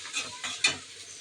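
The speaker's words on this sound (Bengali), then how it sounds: "এইটা পেঁয়াজ আর কাঁচামরিচ তেলে ভেজে নিচ্ছি।" Onion and green chillies fry in oil, heard as a faint, short hiss with a few soft stirring scrapes and one brief clink partway through. No one speaks.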